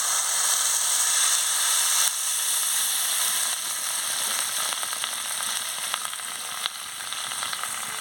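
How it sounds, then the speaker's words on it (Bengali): Water poured into frying spices for a tilapia curry, bursting into a loud, dense sizzle and hiss that stays steady throughout, with faint crackles near the end. "এবার আমি জলটা দিয়ে দিচ্ছি"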